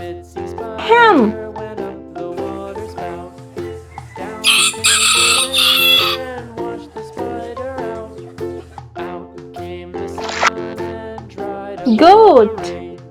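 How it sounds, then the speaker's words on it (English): Toy farm animal sounds: a hen's clucking and a rooster's crow, played as short synthetic bursts over background music and voices, with the crowing loudest near the start and end. "Hen."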